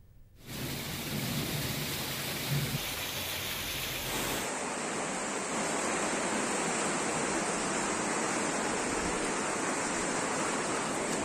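The Peddavagu stream in flood at Narlapur near Kollapur, Telangana, after heavy rain. It gives a loud, steady rushing roar of water that fills the whole clip with no voices.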